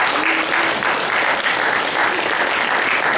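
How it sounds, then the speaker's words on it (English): An audience at a university lecture claps in a dense, even wash of applause that carries steadily for about three seconds. "our first round of applause has to go to the students"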